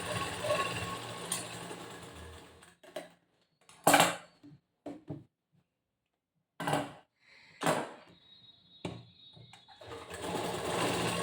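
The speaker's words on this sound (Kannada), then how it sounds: "ಇದಕ್ಕೆ ಫಸ್ಟ್ ಒಂದು ಹೊಲಿಗೆ ಹಾಕೊಂಡ್ಬಿಡ್ತೀನಿ." A sewing machine stitches the front part of a cross-cut blouse in several separate runs, each a close, buzzing burst of rapid needle strokes, separated by silent pauses and small handling clatters.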